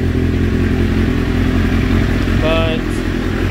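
A 1992 90s sport bike motorcycle engine idling close by with a rough, steady mid-range rumble, a short whining tone rising over it partway through.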